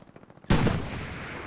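A loud anti-tank gun fires once in the World War II shooter Hell Let Loose, a sudden heavy blast after faint background gunfire, followed by a long rolling decay.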